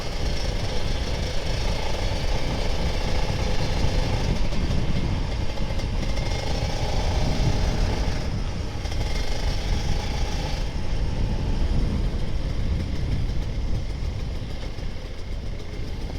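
An older Kawasaki Ninja RR 150 two-stroke motorcycle engine idles at low RPM, a loud, steady, close rumble that holds unbroken throughout with no voices.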